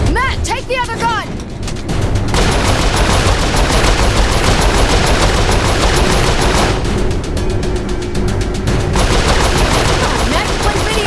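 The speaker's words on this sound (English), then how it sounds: "They're on our tail. Get to the turrets." A mounted turret machine gun in the Saints Row IV video game fires in long, loud continuous bursts with explosions mixed in, a brief lull between, and game character voices heard early on.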